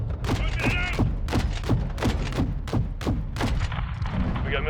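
Gunfire in the video game Modern Warfare 2 (2022): rapid repeated shots in an irregular fusillade, loud and close, with heavy booming low end and a brief voice among the bursts.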